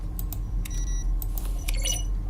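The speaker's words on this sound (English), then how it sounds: "Each sound is a mix of a keyboard stroke and a synthesized tone." Button presses in The Stanley Parable video game, each a keyboard-like click blended with a short synthesized tone, several sharp ticks and brief beeps in quick irregular succession at moderate level.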